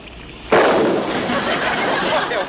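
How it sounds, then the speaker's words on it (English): A sudden loud explosion bursts in, followed by a sustained roaring rumble that lingers without fading much. "what was that explosion?"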